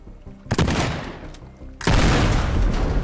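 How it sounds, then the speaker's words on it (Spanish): Explosions destroy structures in the video game Teardown, with two loud, dense bursts of blasts and crackling debris, the second heavier and more sustained. "Cómo mola explotar cosas"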